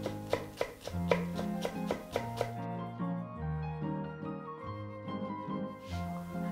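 A knife finely chops lovage rapidly on a cutting board, about ten quick close taps in the first few seconds, over background music.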